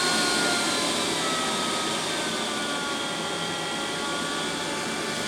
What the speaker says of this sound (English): I can settle it a little bit lower though for my fume extractor.